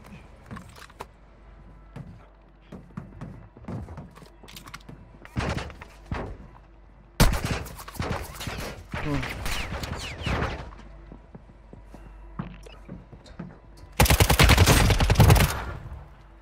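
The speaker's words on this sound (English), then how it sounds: "now we can probably try to shoot somebody up" Gunfire in the mobile battle royale game Warzone Mobile, scattered single shots early on, then heavier automatic bursts in the middle and a loud sustained burst of fire near the end, over quieter in-game ambience.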